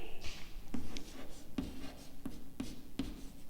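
Chalk or marker taps and short strokes on a classroom board, several sharp ticks spaced about a second apart over a steady low room hum.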